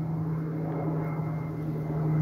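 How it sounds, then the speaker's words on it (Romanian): A propeller airplane from Brașov airport passes over a garden apiary, a steady droning hum with a strong low engine tone that holds level throughout, no voices heard. "trece acum un avion de la aeroportul de la Brașov"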